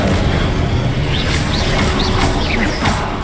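A fire spell goes off in Hogwarts Legacy: a steady roaring blast with whooshing, rising magical swirls layered over it, loud and sustained throughout.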